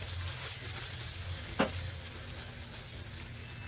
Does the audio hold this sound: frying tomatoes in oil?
yes